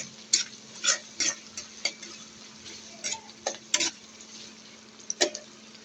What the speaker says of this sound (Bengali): তো এই যে আমার পেঁয়াজটা ভাজা হচ্ছে, বাগার দিব ডালটা